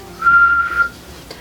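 A single short steady whistle by a person, one clear sustained tone lasting under a second, close and alone.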